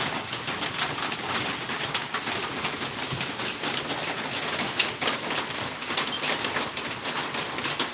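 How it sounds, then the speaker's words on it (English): Steady outdoor rainfall, a dense continuous hiss of drops on surfaces, fairly close and even throughout with no talk. "we're just out listening to the rain, having a relaxing day"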